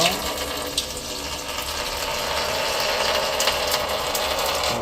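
Water-contaminated engine oil drains steadily from a flood-damaged car that had been underwater, a continuous splashing, trickling pour heard up close with no talk over it.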